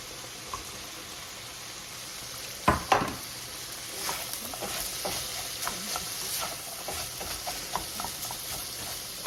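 Chopped cabbage and onion sauté for a shrimp spaghetti stir-fry, a steady close sizzle with a few scraping stirs of the pan, sharpest early on.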